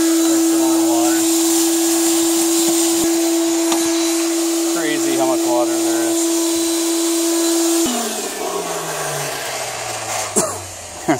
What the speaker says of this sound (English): I already started vacuuming